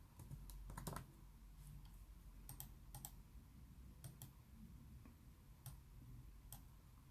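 Keys on a computer keyboard tap out text in quick bursts and separate clicks, quiet and close against a low steady background hum, with no talking.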